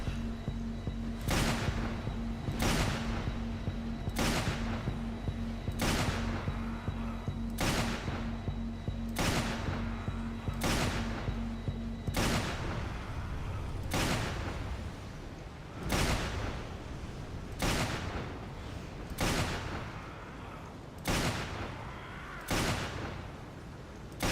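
Repeated gunshots from Resident Evil 6 ring out in a steady series of sharp, loud blasts, about one every second or so, over a low humming backdrop that drops away halfway through.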